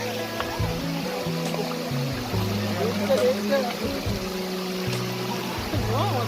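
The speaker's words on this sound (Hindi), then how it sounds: "ये यहाँ पे दूसरा झरना आया, हम इसमें हाथ मुंह धो के आगे बढ़ेंगे।" A small waterfall on the Girnar parikrama trail near Junagadh splashes and trickles steadily, with a voice talking over it throughout.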